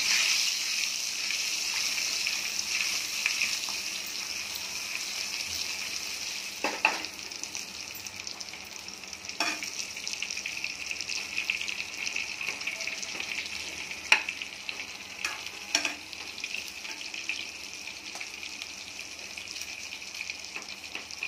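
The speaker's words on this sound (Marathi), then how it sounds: "पूर्ण तेलामध्ये 2-3 मिनिट आपण असे परतून घेणार आहोत" Brinjal sizzles and fries in oil in a pan, a steady loud hiss with occasional soft stirring scrapes, continuous and close throughout with no voices.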